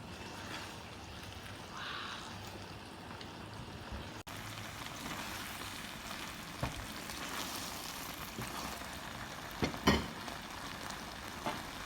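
A pot of creamy shrimp pasta with scallops and spinach is stirred gently, with a soft steady simmering sizzle throughout and a few faint scraping clicks near the end.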